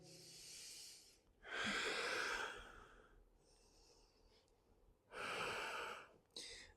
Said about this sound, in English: Few deep breaths in and out.